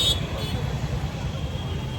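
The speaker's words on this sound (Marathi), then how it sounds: "तो आता ट्रॅफिक आहे," Road traffic hums on a city street during a walking pilgrimage from Thane to Lalbaug, a low continuous rumble of vehicles close by with voices over it.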